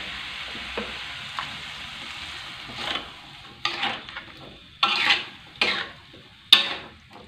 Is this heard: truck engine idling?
no